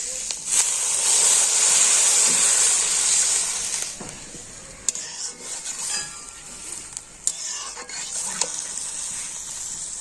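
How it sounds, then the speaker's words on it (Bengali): Water poured into a pot of onions fried until red, a loud hissing sizzle that bursts up at first and then settles into softer bubbling, with scattered clinks of a spoon against the pot. "পেঁয়াজটা কিন্তু আমি লাল করে ভেজে নিয়েছি তো এখন এর মধ্যে আমি দিয়ে দেবো জল"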